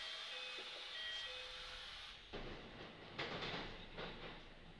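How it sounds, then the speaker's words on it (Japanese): Local stopping train's doors closing on a Hanshin–Kintetsu through service bound for Yamato-Saidaiji, with a steady warning chime tone in the first two seconds, then rumbling car noise and a few clunks as the doors shut. "扉が閉まります。"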